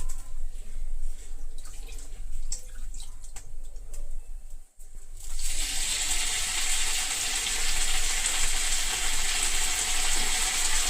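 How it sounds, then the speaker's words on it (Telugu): Gongura leaves frying in hot oil for gongura chutney, starting as scattered crackles, then a sudden loud steady hiss after about five seconds that continues close and alone. "ఆయిల్లో కొద్దిగా వేయించుకుందాం"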